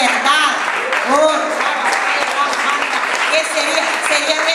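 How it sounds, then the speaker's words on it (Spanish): Congregation applauding in a church during a worship service, a steady, full wash of clapping with voices calling and singing over it throughout. "Un aplauso para el Espíritu Santo"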